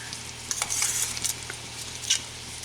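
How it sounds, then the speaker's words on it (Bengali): Garlic paste frying in a pan while being stirred gently, giving a steady close sizzle with scattered scraping stir strokes and light clinks of a utensil against the pan. "এটাকে কিন্তু খুব হালকা করে নাড়তে হবে দেখুন রসুনটা যেন বেশি বাদামি রং না হয়ে যায়"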